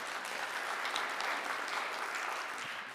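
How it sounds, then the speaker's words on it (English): A room full of people clapping at a mayoral candidate forum held in a church, steady moderate applause that eases slightly toward the end. "So big round of applause for him as well."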